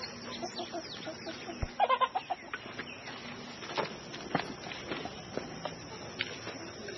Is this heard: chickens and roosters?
yes